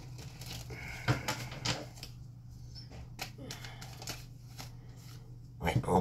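A deck of fortune-telling cards is shuffled close by in quick papery riffles and taps, with brief bursts of flicking between quieter pauses.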